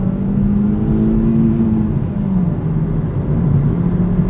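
A 2018 Hyundai Elantra GT Sport's 1.6-litre engine with a six-speed manual pulls steadily under acceleration, a continuous droning hum with slowly shifting pitch, loud and close.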